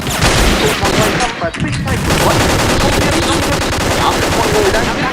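Loud, sustained automatic gunfire in the Vietnam War shooter Vietcong 2, with rapid bursts of rifle and machine-gun fire rattling almost without a break and a short pause partway through.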